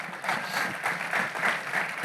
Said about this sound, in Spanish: Démosle un aplauso a Él.